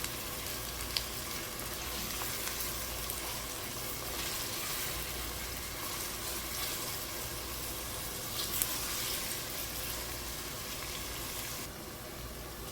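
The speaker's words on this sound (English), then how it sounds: "Add in the finely sliced onions. 5 large onions used here. Stir fry the onions." Five large onions, finely sliced, stir-frying in a pot for biryani give a steady, even sizzle and hiss with no clear stirring strokes, continuous and moderately loud throughout, with no talking.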